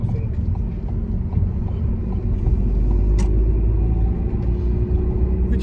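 Car engine pulling away in second gear during a real driving lesson on a test route, a steady low rumble of road and engine noise throughout, close and continuous.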